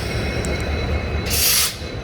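Shantiniketan Express pulling into Howrah railway junction, a loud close rolling rumble with a bright hissing wheel squeal swelling briefly in the middle, no voices.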